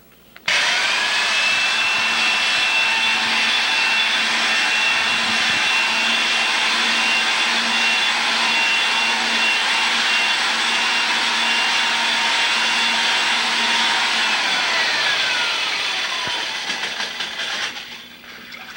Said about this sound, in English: So that's our stainless steel glaze drill